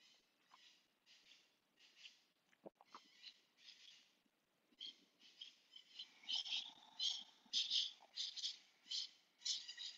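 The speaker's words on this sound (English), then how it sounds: "I hope you can hear the birds." Soft, high chirping bird calls repeat in short bursts, growing slightly louder and busier toward the end, with a few faint low thumps.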